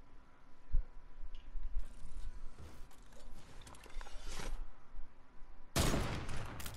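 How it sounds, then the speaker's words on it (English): Gunfire in a video game shootout: scattered bursts and single shots at varying distances, some faint and far off and some sharp and close, with a loud burst near the end. "They're both shooting at me."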